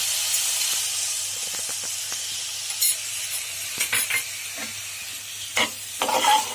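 Dry daliya being stirred in a pan after lemon juice is added, giving soft intermittent scraping strokes with a few sharper knocks over a faint steady sizzle.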